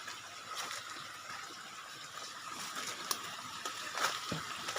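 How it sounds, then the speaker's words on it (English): A waterfall at the top of a wildlife reserve valley makes a faint, steady rush of falling water, heard from a distance with a few small knocks over it. "And this is our top waterfall."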